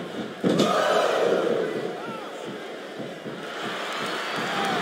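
Broad, steady crowd roar from a wrestling arena in WWE SmackDown vs. Raw 2007, swelling loud after a sharp hit and holding as a continuous wash of cheering throughout.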